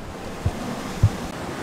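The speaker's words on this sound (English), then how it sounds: "We're at the ocean." Ocean waves wash against a seaside grotto, a steady surf roar with wind rumbling across the microphone and two brief low thumps.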